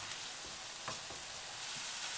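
Garlic and onion fry in a pan on reduced heat while being stirred, a steady hissing sizzle with a few soft scraping strokes, close and continuous with no talk.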